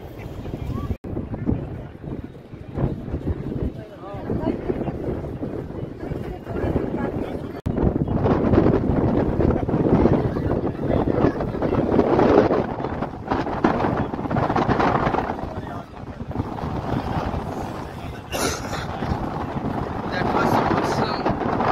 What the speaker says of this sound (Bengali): ভীষণ ভীষণ হাওয়া এবং অসাধারণ লাগছে।